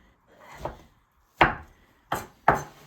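Hash browns for a breakfast casserole are cut on a board: four distinct knife chops, one soft, then three sharper and louder ones, close up with quiet gaps between.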